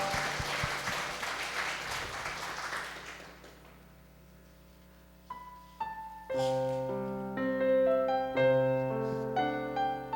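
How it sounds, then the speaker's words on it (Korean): A church congregation claps through a Sunday worship service at a Korean Presbyterian church, steady applause for about three seconds that fades out, followed by soft sustained keyboard or organ chords beginning to play alone. "하나님께 영광의 박수를 올려드리겠습니다."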